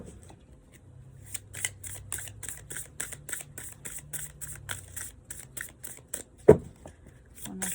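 Tarot cards riffle and snap in a quick series of crisp, close shuffling bursts, ending with a sharper slap of the deck, over a faint low hum.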